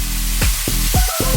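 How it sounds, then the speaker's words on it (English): Mushrooms and shallots sizzle in a hot pan during a stir fry, a steady frying hiss broken by a few quick scraping stirs and clacks, close and fairly loud with no talk. "Keep mixing and stirring because you don't want to burn any of the mushrooms or the shallots"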